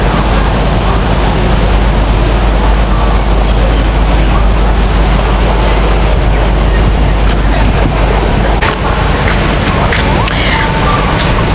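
Steady broadband rush of sea water and wind at a Singapore beach with a boat on the water, continuous and fairly loud throughout, with faint voices in the background.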